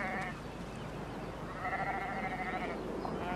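Shetland sheep bleat close by in two drawn-out calls over a low outdoor background, with no talking.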